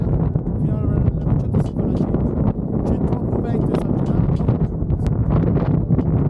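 Strong wind buffeting the microphone on the rocky summit of Sasso Nero in Valle Aurina, a loud, continuous roar with gusty bursts, while a person talks throughout.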